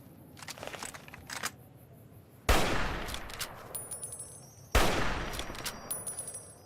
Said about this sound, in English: We can get a headshot with this rifle.